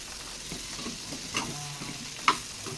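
Cauliflower masala kuzhambu is stirred and fried in a pan, giving a low steady sizzle with soft scraping strokes and one sharper clink of utensil on metal near the end.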